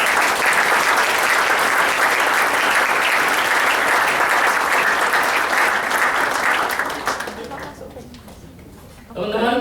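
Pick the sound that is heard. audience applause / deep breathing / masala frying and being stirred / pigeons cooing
audience applause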